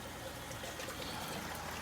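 Water trickling through an external siphon into a flood-and-drain grow bed, a soft, steady, faint dribble.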